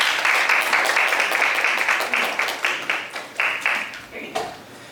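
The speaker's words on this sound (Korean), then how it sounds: "큰 박수 부탁드립니다." Audience applause at a Korean university innovation forum, dense clapping from a sizable crowd filling the hall, holding steady at first and then thinning into scattered claps before fading out, with no talk over it.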